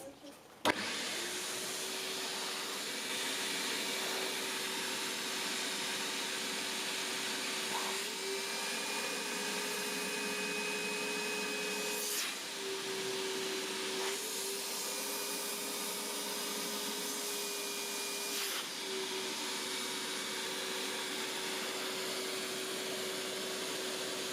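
A RedLine RL-3-80 three-motor vacuum cleaner running on one motor drones steadily and loudly throughout, with a sustained whine and a few brief shifts in pitch.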